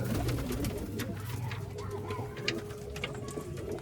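Several pigeons coo continuously close by, low rolling calls layered over one another with faint background clatter.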